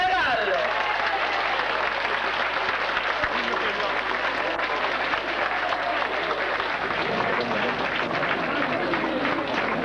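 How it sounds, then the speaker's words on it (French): A standing crowd at an event in Marseille gives the president of Senegal loud, dense, continuous applause close up, a steady roar of clapping hands with faint voices mixed in. "levez et applaudissez le président de la République du Sénégal"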